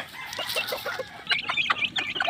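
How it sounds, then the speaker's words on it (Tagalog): Pet chicks peep and cheep in a busy cluster of high, overlapping calls while being fed, close by and moderately loud, with no talk over them. "Ayan po mga kaibigan yung ating sisiw"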